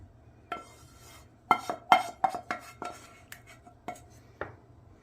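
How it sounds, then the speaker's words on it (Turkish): A utensil scrapes a frying pan clean while soup is made: irregular clanks and metallic scrapes, close and fairly quiet, no talking. "Tavamızı güzelce sıyıralım."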